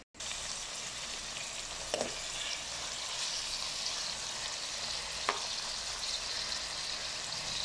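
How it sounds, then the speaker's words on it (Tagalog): Onion, garlic and tomato sauté in a pan for a home-style vegetable pakbet, a continuous close sizzle with two brief clinks of a utensil against the pan and no voices. "gisahin lang muna natin yung sibuyas, bawang at kamatis"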